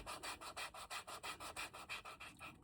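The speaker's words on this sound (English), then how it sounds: "sand a little bit of this off here" Rhythmic back-and-forth scraping of 120 grit sandpaper on a leather bifold wallet, about a dozen even strokes, close and steady with no voices.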